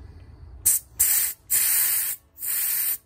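Gas purged from a Coleman propane bottle during refilling hisses out in four sharp bursts, each lasting a fraction of a second to about a second, loud and close with short silent gaps between them.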